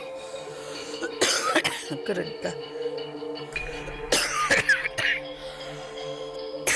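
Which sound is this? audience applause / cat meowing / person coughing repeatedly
person coughing repeatedly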